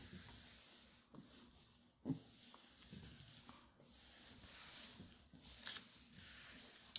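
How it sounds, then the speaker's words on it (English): Soft continuous rubbing and hissing as paint is worked through stencil holes on a gel printing plate, a steady textured scrub with brief dips and a few small taps, no talking. "just rub it right in those stencil holes"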